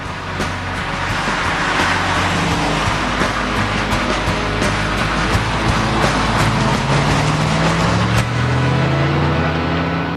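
A 2004 Pontiac GTO muscle car with an LS1 V8, also sold as the Holden Monaro, drives past with a loud, steady engine roar and road noise that hold throughout. A rising tone near the end hints at acceleration.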